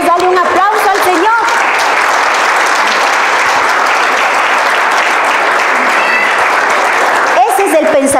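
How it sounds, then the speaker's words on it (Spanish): A church congregation breaks into sustained, loud applause that fills the room and holds steady, with a voice speaking Spanish over it at the start and again as the clapping fades. "Podemos darle un aplauso al Señor."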